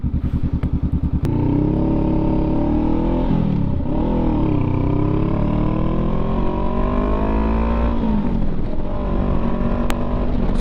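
A motorcycle ridden fast through traffic in the French Quarter gives a loud, close engine roar that surges and drops as it accelerates and shifts, with a few sharp clicks near the start.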